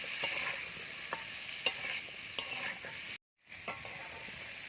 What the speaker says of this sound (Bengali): এবার আমি ভালো করে আলুটা ভেজে নেব